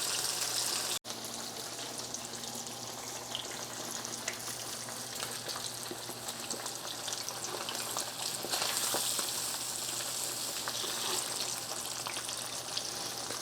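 Fish fillets fry in a pan with a loud, continuous sizzle and crackle, steady throughout with a brief click near the start and no talking.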